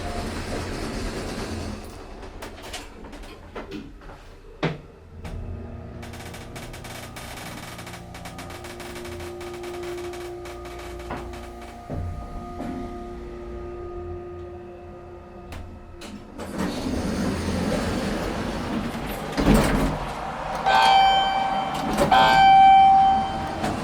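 A small modernized Montgomery hydraulic elevator at a Tucson plaza rides up with a steady low hum and faint creaks, interrupted by clunks as the car starts and stops, then brighter noise and a chime as doors move.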